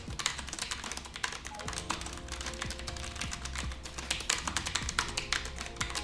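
Rapid, continuous clicking of the keys of a Logitech G915 mechanical keyboard, close and crisp, with an uneven typing rhythm.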